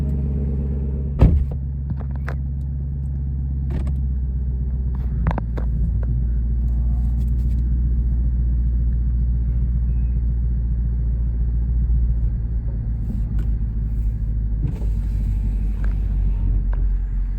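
A 2021 Chevrolet Camaro SS 1LE, rebuilt after a wreck, idles with a deep, steady V8 rumble that carries on as the car pulls away, with a few light clicks and knocks from the cabin over the low engine drone.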